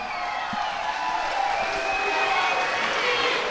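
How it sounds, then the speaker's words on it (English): An audience at an arm wrestling bout applauding and cheering in a steady, dense wash of clapping and crowd noise that holds loud throughout. "a big round of applause to the arm collector, Brogan Anderson"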